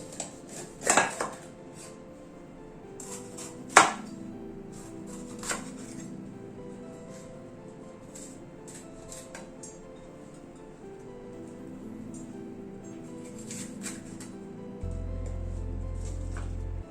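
Capsicum being diced with a knife on a board, with a few sharp knocks early on and then light, sparse taps and clinks, close and quiet, ending in a steady low hum.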